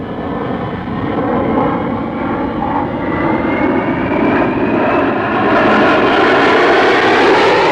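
Jet formation of RAF Treble One Squadron climbing for a loop, a loud sustained engine roar that swells slightly and rises in pitch as the aircraft pull up, with no voices.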